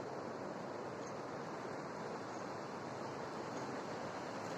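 Strong, fast-flowing Mahanadi river water rushes steadily, a dense broadband roar that stays loud and constant throughout, with some wind buffeting the microphone.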